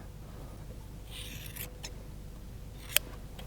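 Scissors trimming the hair of a mule's tail by a traditional shearer, a few soft snipping bursts close up and quiet, ending with one sharp click, no talk.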